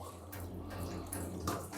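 Hot water runs from a tap into a sink in a custom-built HGV double-decker race trailer, fed by a boiler and a 24-volt pump; a steady, fairly quiet splashing stream with no talk.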